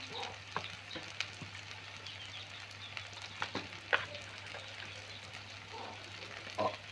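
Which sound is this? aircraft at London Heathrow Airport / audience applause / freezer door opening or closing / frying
frying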